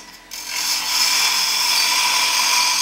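A spindle gouge cutting a wooden bottle stopper on a lathe gives a sustained, loud hissing scrape that starts abruptly after a brief quiet moment and then holds steady and close.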